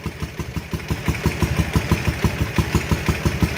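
A Ural motorcycle engine, just back from carburetor cleaning after sitting eleven years, runs with a steady, close, thumping rhythm, its beat gradually firming up.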